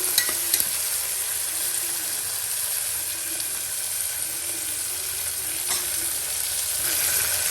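Hyacinth bean masala frying in oil in a pan, a dense, even hiss of sizzling that runs unbroken and fairly loud, with a couple of faint clicks near the start.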